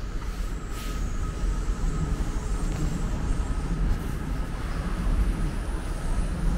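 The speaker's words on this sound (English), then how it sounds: "I see a train pulling out of the station." Steady low rumble of a train pulling out of a station nearby, a continuous heavy drone with a faint high whine above it, no voices.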